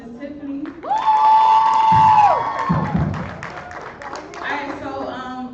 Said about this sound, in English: let's give a round of applause to Miss Tiffany